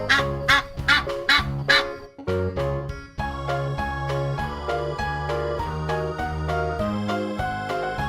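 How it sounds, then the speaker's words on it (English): A goose honks a few times at the start, close and clear, then gives way to a bright, steady children's song of plucked and sustained tones in a farm-animal lesson for kids. "Goose."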